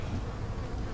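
Dense, steady buzzing of many honey bees close by in an open hive, a continuous low hum with no pauses and no voices.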